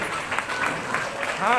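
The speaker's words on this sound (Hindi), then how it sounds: "जोरदार तालियों से कर्नल ध्वनि से उनका स्वागत कीजिए।" Audience applause welcoming a woman legislator onto the stage at a women's honours ceremony, brief crowd clapping blended with a host's amplified voice speaking over it.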